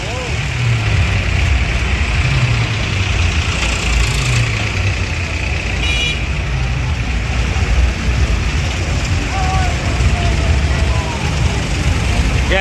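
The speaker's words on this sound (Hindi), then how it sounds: "कम से कम 2-3 किलोमीटर लंबी लाइन है भैया ट्रैक्टरों की।" Long line of farm tractors idling and rolling along a road, a continuous, dense diesel rumble with engines passing close by, while people talk throughout.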